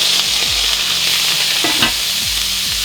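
Tofu cubes fry in a hot skillet with a steady, loud sizzle throughout, and a few soft thumps and scrapes land as the pieces settle in the pan.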